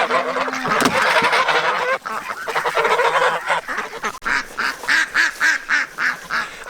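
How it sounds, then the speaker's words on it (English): Geese honking alongside ducks in a garden, a loud close series of rhythmic honks that grows into regular repeated calls, with quacking mixed in. "I put the ducks and the geese in the garden."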